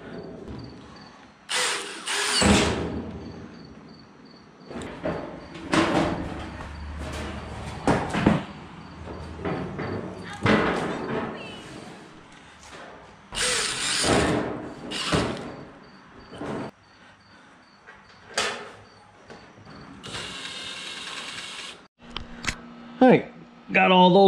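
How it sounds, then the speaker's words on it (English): Screws and bolts being snugged up on a Harbor Freight hanging tool cabinet, with repeated bursts of scraping and clicking turns separated by pauses and occasional metallic knocks, while someone talks between them. "I'm just snugging up these screws now."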